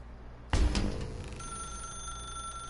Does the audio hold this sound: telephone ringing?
yes